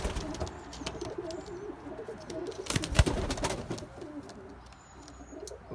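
Fantail pigeons in a loft coo repeatedly in soft, low rolling phrases, with several birds overlapping at close range and a brief louder flutter or bump midway.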